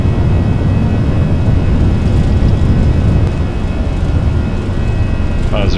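An Airbus A320 jet in X-Plane 11 roars at full power during its takeoff roll in snowy conditions, a loud, steady, broadband rumble throughout.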